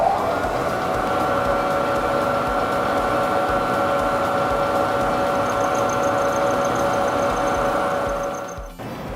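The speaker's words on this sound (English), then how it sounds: "This is our CNC lathe." CNC lathe running in a machine shop, a steady loud whining hum with a sustained tonal drone that holds throughout before a brief clunk near the end.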